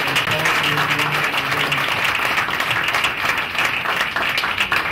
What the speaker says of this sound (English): How about one more round of applause for all our great Diamond Jubilee recipients?